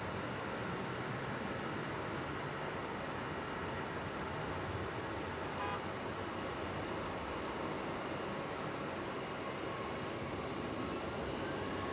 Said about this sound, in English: And there goes Southwest departing on the east side of the airport there